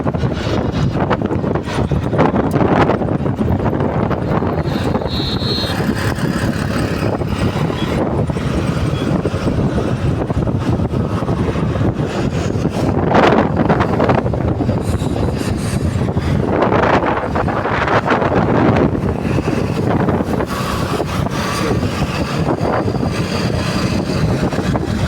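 Strong wind buffeting a car moving at about sixty, heavy blustery rumble and microphone wind noise with loud gusts swelling and fading throughout.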